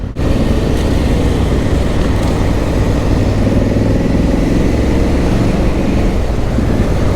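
A pair of motorcycles ride together on UK roads, and a continuous loud engine drone with wind rumble holds close and steady throughout, with no voices.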